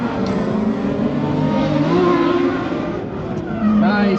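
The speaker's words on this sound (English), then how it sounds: "Nice big flick entry, aggressive by that lead car." A drift car in a Pro Light Class session at an Ultimate Drifting Challenge event roars steadily through an aggressive flick entry, its engine held loud and close for several seconds while commentators talk over it.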